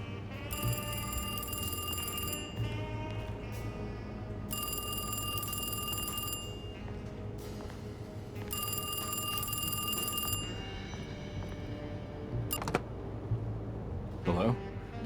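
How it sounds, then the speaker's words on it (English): An old-style telephone bell rings in the Alone in the Dark game, sounding in long repeated bursts with pauses between them over a steady background hum, and a voice speaks briefly near the end. "Oh, I hear phone ringing."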